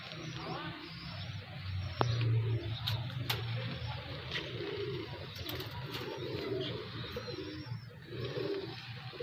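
Old Salaray Teddy pigeons coo softly and repeatedly in low murmuring phrases, with rustling, faint clicks and a voice in the background.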